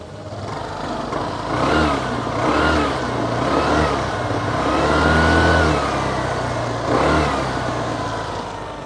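The 200 cc engine of an Aprilia SR GT 200 scooter starts, then revs up and settles repeatedly, rising and falling in pitch at close range, with no voices over it.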